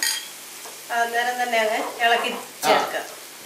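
Egg bhurji, an Indian scrambled egg dish, sizzles in a pan on a low flame as the eggs are stirred in, giving soft frying crackle and scraping under a person talking.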